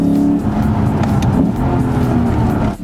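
A 2017 Lexus RC-F V8 coupe driven hard with some wheel spin, its engine roaring loud and close with a deep, throbbing note that shifts pitch slightly, continuous throughout.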